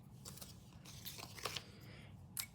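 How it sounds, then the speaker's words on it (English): Scissors snip through stiff green card in a few quiet, crisp cuts close by, with a light rustle between them. "do a little cutting with some scissors"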